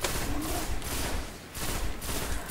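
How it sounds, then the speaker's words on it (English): Sustained gunfire from a gun in the Destiny video game, a dense continuous burst of shots running nearly the whole time with a brief dip midway, loud and close with no talk over it. "This gun would be just... unstoppable if it had a few more bullets in the magazine and hit a little"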